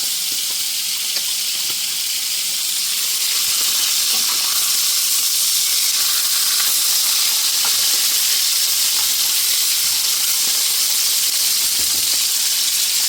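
Steaks fry in a pan that was used for bacon, making a steady, close sizzle and hiss that carries on evenly without a break, with no one speaking.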